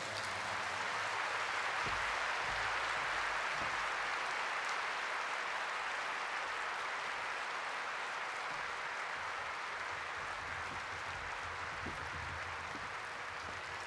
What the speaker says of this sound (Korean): 여러분 큰 박수로 박옥수 목사님을 맞아 주시기 바랍니다.